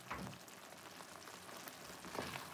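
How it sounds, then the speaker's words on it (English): Tomato mabo tofu sizzles and bubbles in a pan over high heat, a soft, steady crackle with a few louder pops. "cook on high fire."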